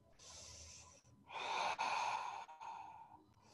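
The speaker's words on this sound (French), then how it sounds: "Deux souffles." Deep, slow yoga breaths during a morning flow session: a soft inhale, then a longer, fuller breath and a gentle exhale, close and quiet, with no talking.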